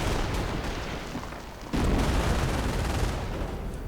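An artillery strike in a real-time strategy video game produces a dense rumble of explosions and gunfire, with a sharp, louder boom surging in midway and continuing heavily to the end.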